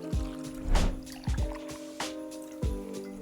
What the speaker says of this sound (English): Starting with the snifter, pour in 1 ounce of Southern Comfort.